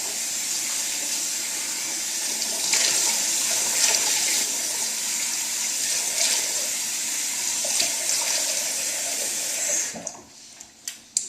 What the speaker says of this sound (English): turn on warm water and just splash my face